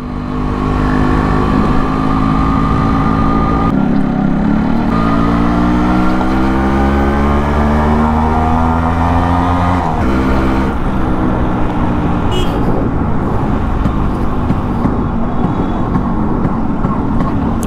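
A Yamaha RX100 motorcycle engine runs loud and close, revving up and down with a rising and falling throaty drone that fills the whole stretch.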